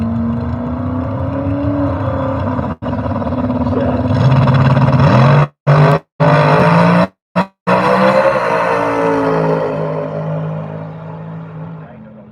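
A small-tire outlaw drag racing car roars down the strip at a night race, its engine loud and rising in pitch, with brief dropouts, then fading as it finishes the run while an announcer talks over it.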